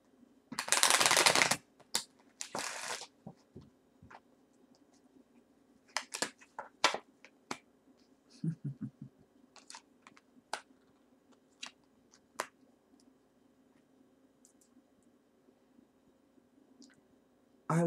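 Tarot cards are pulled from a deck, with a brief loud shuffle of cards near the start followed by scattered soft clicks, taps and card flicks in a quiet room.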